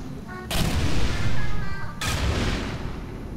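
Two heavy booming blasts from the video game Portal 2, each a loud sudden broadband burst with a long rumbling tail, about a second and a half apart, with a faint voice in the background.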